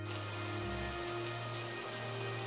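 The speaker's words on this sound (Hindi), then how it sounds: "बारिश इतनी हो रही है कि ग्राहकों का घर से बाहर निकलना भी मुश्किल हो गया है" Heavy rain pours steadily on a surface at a roadside pakora stall, a dense, constant hiss with no break and nobody speaking.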